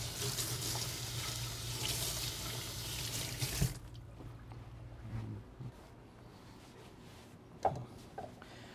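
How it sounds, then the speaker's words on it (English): Tap water runs steadily and loudly while a kitchen knife is rinsed under it for lime soup, then the flow stops, leaving quiet clinks and handling sounds. "I'm gonna rinse my knife real quick here."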